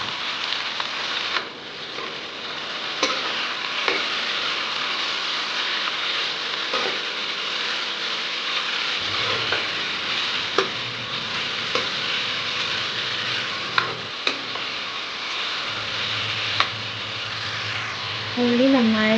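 Onions, green chilies, crushed ginger-garlic and curry leaves stirred in a hot pan for beef roast, a steady frying hiss with intermittent spoon clicks and scrapes throughout.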